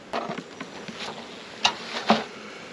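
Honey bees buzz around opened backyard hives in an Australian apiary, a steady, faint hum with a few brief louder passes as individual bees fly close, and no talking.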